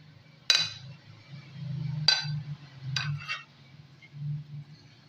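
Spoon clinking against a glass bowl while vermicelli and custard are mixed together, three or four bright, sharp taps spaced apart over a soft, low background hum.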